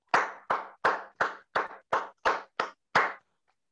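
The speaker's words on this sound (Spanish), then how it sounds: "Aplausos para la Fórmula 2." Nine evenly spaced claps, sharp and compressed, sound through a Zoom call during a virtual swearing-in ceremony for newly registered lawyers, each burst ringing briefly before the next.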